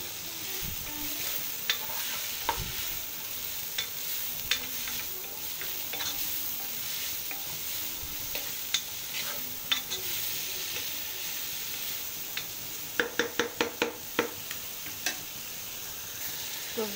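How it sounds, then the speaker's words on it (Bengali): Salted fried rice is stirred in a pan over high heat: a constant hissing sizzle with spatula scrapes throughout and a quick run of sharp clicks near the end. "একটু নেড়ে নিচ্ছি চুলার আঁচটা বাড়িয়ে দিয়ে।"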